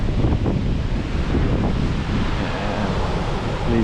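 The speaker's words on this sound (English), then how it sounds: "And leads into this cascading waterfall." A cascading waterfall in Yosemite's high country below a natural rock dam and pool pours as a steady, dense roar of rushing water, loud and unbroken, with some wind buffeting the microphone.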